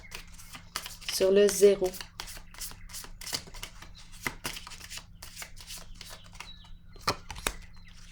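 Tarot cards are shuffled by hand in quick, close riffling bursts with soft slaps and flicks throughout, and someone briefly speaks partway through.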